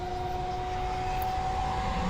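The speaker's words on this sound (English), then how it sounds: "He shot the helicopter." A helicopter flies in the video game Alan Wake, a steady droning engine hum with a sustained tonal whine, continuous and fairly close, with no voices.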